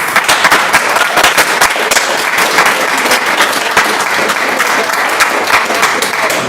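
An audience at a school board of education meeting breaks into sustained applause, dense and fairly loud, with crisp individual claps standing out. No voices are heard over it.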